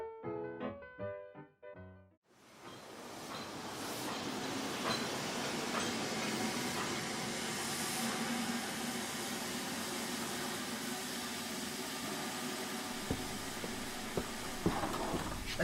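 Train at a railway station, a loud continuous rumble and hiss of rolling stock that rises suddenly after a short burst of musical tones and then holds steady, with occasional clanks near the end.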